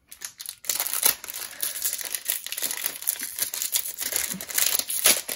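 Foil Magic: The Gathering booster pack, Theros Beyond Death, being crinkled and torn open up close, a steady run of crackling, papery rustles and rips with no talking.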